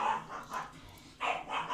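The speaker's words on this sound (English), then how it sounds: "that's my dog, as you guys can probably hear." A pet dog barks excitedly indoors, several bursts in an irregular rhythm with short pauses, moderately loud and close, with no talking over it.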